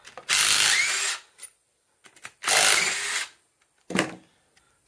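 Ratchet wrench removing bolts from a Kubota diesel engine during disassembly: two long, close bursts of rapid ratcheting clicks, then a shorter burst, separated by quiet pauses.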